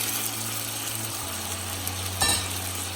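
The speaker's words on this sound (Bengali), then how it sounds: "এখন আমি পরিমাণ মতো পানি দিয়ে দিচ্ছি সিদ্ধ হওয়ার জন্য।" Water poured into a pan of fried beef sets off a loud, steady sizzle, with a sharper hissing burst near the end as more liquid hits the hot meat.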